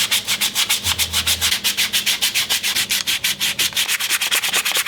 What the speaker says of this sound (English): I'm gonna give hand sanding a try. So I'm gonna up the game here to, what is this, a 180 grit?